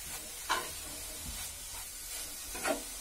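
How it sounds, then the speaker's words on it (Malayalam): A banana and coconut mixture stirred in a pan over a medium flame, with a soft steady hiss and a few scraping strokes of the spoon at a slow, uneven pace. "ഒരു അഞ്ച് മിനിറ്റ് സമയം വരെ ഒന്ന് മീഡിയം ഫ്ലെയിമിൽ നമ്മളിങ്ങനെ ഇളക്കിക്കൊണ്ടിരുന്നാ മതി"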